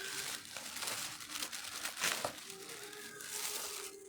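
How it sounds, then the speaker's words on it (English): Wrapping paper crinkles and tears as a present is unwrapped by hand, a steady close rustle running throughout with brief sharper rips, while a voice talks faintly underneath. "Then we unwrap the present."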